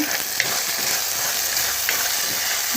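Tomatoes sautéing in a pan for tomato soup, a loud, continuous sizzle with scattered crackles and occasional stirring clicks.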